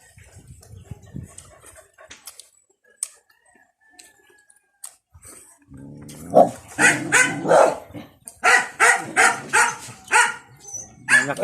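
Dog barking on a farm at an approaching stranger, a run of loud, rhythmic barks starting midway after scattered faint sounds, with a rooster crowing amid the background.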